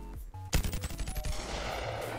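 A 50 BMG rifle fires in the VR game BONELAB, one sudden loud blast followed by a rapid rattling echo and a lingering rumble, with no voices.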